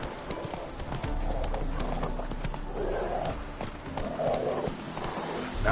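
Horse hooves clip-clop at a steady trotting rhythm in the video game The Witcher 3, close and clear over a low background, with a brief whinny-like sound mixed in.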